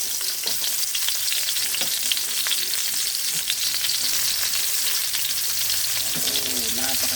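Garlic and onion sizzle and fry steadily in a hot pan, a dense continuous crackle with occasional stirring clinks and a brief voice near the end.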